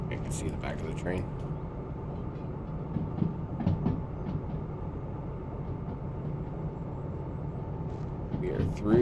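DH4 diesel locomotive hauling a train in the Derail Valley simulator: a steady low engine drone with rail clatter underneath, and a voice talking over it at times.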